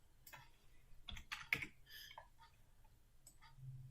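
Keystrokes on a computer keyboard while a page layout is edited, a loose run of clicks with louder taps near the middle, fairly close and moderately quiet, with no talking.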